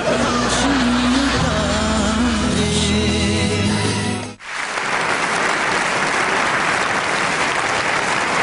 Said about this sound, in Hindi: बंद करो तालियां